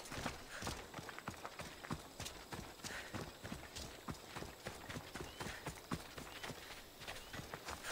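Horse hooves clip-clop at a steady walking rhythm in the Assassin's Creed Odyssey video game, close and fairly loud over a continuous rumbling game background, with occasional faint voices.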